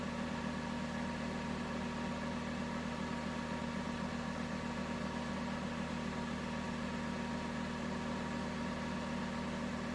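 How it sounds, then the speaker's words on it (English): A pulse motor hums steadily on a new driver circuit firing 350 hertz pulses, a constant, even drone with a faint buzzing tone running unchanged throughout, quiet and with no one speaking. "It's a very efficient circuit for driving pulse motors."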